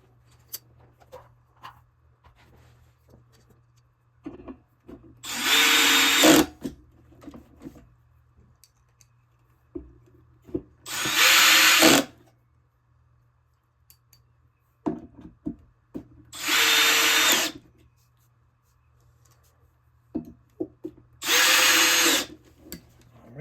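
A power drill drives four Torx 20 screws into a Honda Element center console bracket, sounding as four separate whirring bursts, each roughly a second long, with quiet pauses and faint handling clicks between them.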